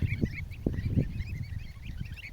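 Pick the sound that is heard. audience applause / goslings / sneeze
goslings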